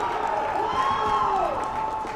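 Hockey supporters at a juvenile division game applauding a player heading to the locker room, steady crowd clapping with a faint tone sweeping through.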